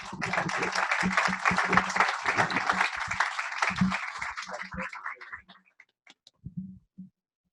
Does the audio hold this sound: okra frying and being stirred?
no